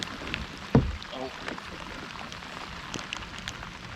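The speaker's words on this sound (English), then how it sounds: "See, it ain't too bad when it rains like this" Steady rain patters on a river surface around a fishing kayak on the River Medway, a soft broadband hiss throughout with a brief louder knock near the start and occasional faint drips and movement.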